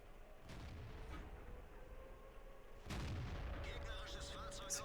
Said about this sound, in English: And the Nashorn is shooting me in the side.